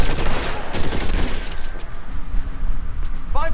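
Gunfire in the video game L.A. Noire, a loud rapid fusillade of overlapping shots and bursts crackling nonstop, with a brief voice near the end.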